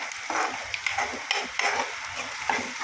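Onion frying until brown in a pan gives a continuous close sizzle and crackle, with light scraping taps of a spatula stirring at intervals and no voices.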